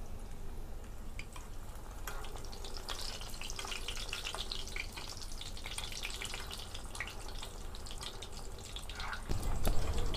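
Bread-based sweets fry in a pan of oil, a faint continuous bubbling crackle with scattered light ticks, rising into a louder rumble near the end.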